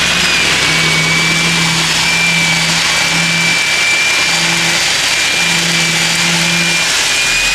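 The Husqvarna AME 1600 engine runs continuously, loud and near, with a steady mechanical drone, a thin high whine on top and intermittent low tonal pulses. No one talks.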